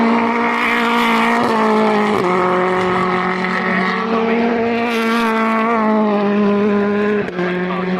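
BTCC touring cars race past the grandstand at Oulton Park, their engines loud and close, with pitch rising and falling through the whole pass.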